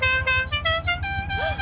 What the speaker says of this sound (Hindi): चले हॉर्न बजाए।